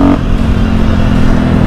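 A motorcycle rides through the city centre of Klagenfurt, its engine droning loud and close with a steady, throbbing hum and road rumble throughout.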